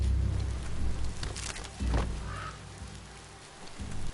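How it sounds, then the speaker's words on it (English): Rain falling in the video game Biomutant, a steady broadband patter that holds for the whole few seconds with faint low rumbles beneath and no talk. "Hope this rain is warm."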